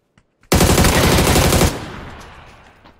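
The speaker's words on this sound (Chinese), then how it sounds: "这大炮打的还挺快的，挺准的" A cannon in a shooter video game fires a rapid, dense burst for just over a second, loud and close, then trails off in a fading echo; a couple of faint clicks come just before.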